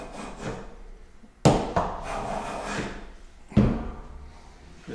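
A hand plane is pushed along a wooden board, lifting wide shavings in two sharp strokes with rasping scrapes between them, close up, while someone talks over it.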